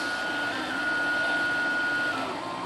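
Husqvarna Viking Platinum Plus sewing and embroidery machine running with an embroidery needle fitted: a steady, close mechanical whir and hum with a faint constant high tone, no pauses and no talking.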